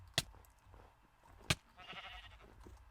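Sheep in the Minecraft Dalek Mod give short bleats amid a snowy scene, with two sharp, loud hits standing out and a brief buzzy tone near the end, all fairly quiet and without talk.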